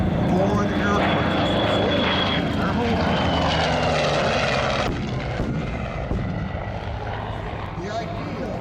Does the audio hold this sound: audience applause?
no